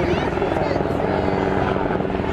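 A helicopter flies low over the crowd at the Jones Beach, New York air show, its loud, continuous rotor drone steady throughout while an announcer talks over it.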